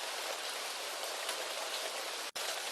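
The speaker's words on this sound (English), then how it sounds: "just live with the sound of the rain" Steady rainfall hisses continuously, with a momentary gap near the end before the downpour resumes.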